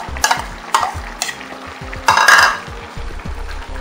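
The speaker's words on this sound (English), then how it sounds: "Give it a proper stir." Egusi soup is stirred firmly in a pot: a run of close, rhythmic spoon scrapes and thick sloshing strokes over a low bubbling sizzle, with one longer, louder scrape midway.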